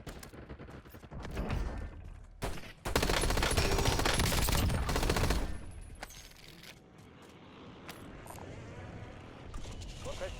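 Bursts of automatic gunfire in the battle royale shooter Warzone, with a dense, loud volley in the middle and scattered sharper shots before and after, mixed with game sound effects.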